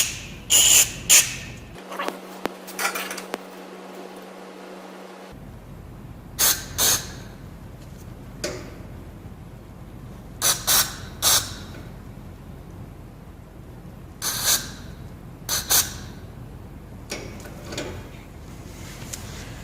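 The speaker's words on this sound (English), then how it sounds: "a can of cleaner in here. And I want to spray down the air bleeds" Carburetor cleaner sprayed onto the air bleeds of an Estate by Murray dual-stage snow blower: sharp hissing bursts, often in quick pairs, repeat every few seconds over a quiet background with light handling noise.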